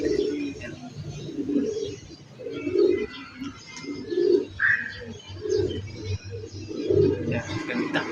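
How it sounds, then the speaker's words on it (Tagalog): Pigeons in a loft give repeated low, throaty coos at a steady rhythm, close and moderately loud, with faint rustling and other bird sounds in the background. "Grabe talaga yung ibon na ito."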